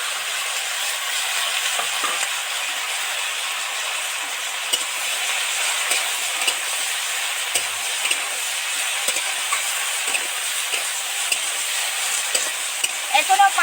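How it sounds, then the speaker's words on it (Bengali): Loud, continuous sizzling of tomatoes and potatoes frying in oil with ginger, with frequent crackles and stirring scrapes close by. "এবার আলু আর টমেটোটার মধ্যে দিয়ে দেবো"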